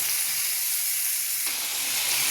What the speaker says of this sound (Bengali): এবার ভালো করে মশলাটা কষাবো।